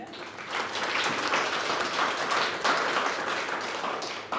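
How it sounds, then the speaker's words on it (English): An audience at an evening event on the future of work in Scotland gives a round of applause, a dense, steady clapping that fills the room for several seconds. "Give yourself a round of applause."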